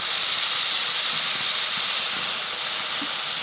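Cut potatoes in a hot pan, a loud, unbroken hissing sizzle running the whole time with no pauses.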